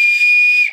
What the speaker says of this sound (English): It's Madame Hooch's whistle.